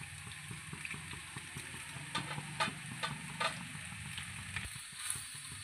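Pasta with coriander is stirred in a frying pan, giving a steady soft sizzle with repeated scraping and clinking strokes of the spoon, close and moderately loud, with no talk.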